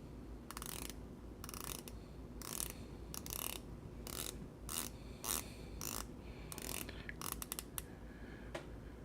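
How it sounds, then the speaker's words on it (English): Rapid clicking ratchet of a Zelos Swordfish dive watch bezel being turned, in short close bursts of crisp detents separated by brief pauses, with no talking. "Just listen to this bezel action."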